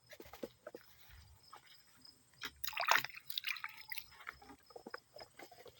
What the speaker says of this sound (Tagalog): Niluhusan ko ng husto, ng tubig.